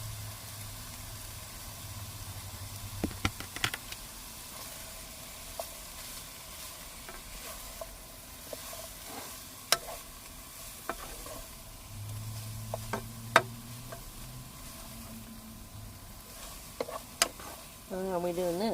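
Chinese dried noodles sauté in a pan with a faint, continuous sizzle, broken by scattered soft clicks and scrapes of stirring, quiet and close.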